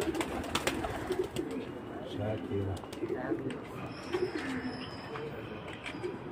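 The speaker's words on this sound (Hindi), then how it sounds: "ये कबूतर आसमान जा रहे है" Pigeons coo in soft, low repeated calls at a pigeon-flying contest, with other birds chirping and murmuring voices in the background.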